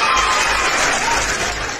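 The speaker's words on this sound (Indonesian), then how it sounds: "Tepuk tangan." A debate audience applauds briefly, a dense, even wash of clapping that stays fairly steady and fades slightly at the end, with no speech over it.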